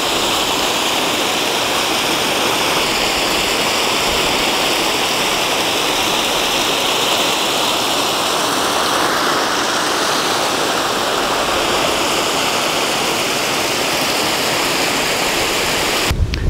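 Water pours over a bridge that serves as a dam near Cypress Falls around Wimberley, Texas, a loud, dense, continuous rush with no voices.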